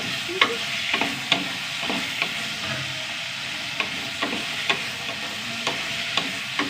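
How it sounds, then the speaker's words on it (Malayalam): Okra, onion and tomato sauté in a hot pan, a soft even sizzle punctuated by regular spatula scrapes and taps every second or so, close and without speech. "നന്നായി വഴറ്റിയെടുക്കണം വെണ്ടയ്ക്ക ഉള്ളി തക്കാളിയൊക്കെ നന്നായി വഴണ്ട് വന്നു"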